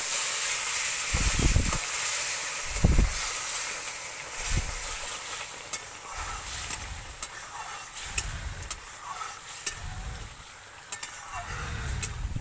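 Garlic and cumin seeds sizzle in hot oil in a pan, a steady hiss broken by repeated low scraping stirs, close and fairly loud with no talking.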